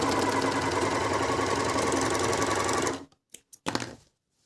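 An Elna 904DE overlock sewing machine stitches and trims two layers of thick drape coat fabric, a loud steady whir running about three seconds before stopping, followed by a few short bursts.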